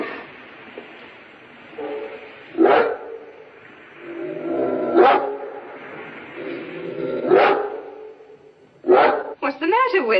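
A dog barks in single sharp bursts at spaced intervals, a few seconds apart, over a background of people talking and a murmur of ambient noise.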